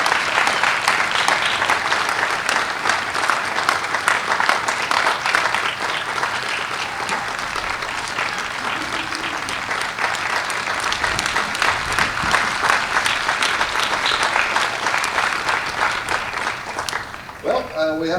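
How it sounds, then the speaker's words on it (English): Long, sustained applause from a summer concert crowd after a municipal band trumpet soloist, continuous clapping at moderate loudness that carries on evenly before fading out at the end. "How about another round of applause?"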